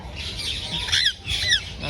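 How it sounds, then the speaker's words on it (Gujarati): Two harsh, high squawks from a parrot nearby at a zoo in Surat, spaced about half a second apart, over a quiet background. "આ રિયલ પોપટ છે."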